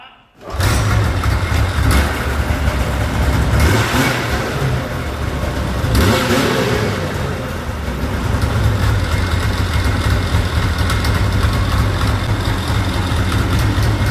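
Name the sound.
snowmobile engine idling after track change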